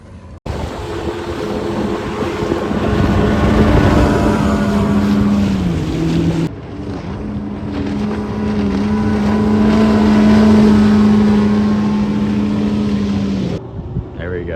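A budget-build bass boat's engine roars wide open with a steady droning pitch, near and loud, wind buffeting the microphone, briefly cutting out midway.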